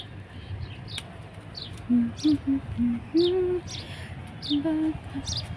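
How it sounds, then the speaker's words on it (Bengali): Sparrows chirp on a rooftop: a run of short, high chirps mixed with lower tonal calls in clustered bursts, moderately close, over a soft steady background. "পাখির আওয়াজ।"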